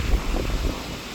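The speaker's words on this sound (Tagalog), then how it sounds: "So yan, sobrang lakas ng hangin." Strong wind from Typhoon Uwan roars at Subic, Zambales, a dense steady rush buffeting the microphone with low rumbling gusts and no voices.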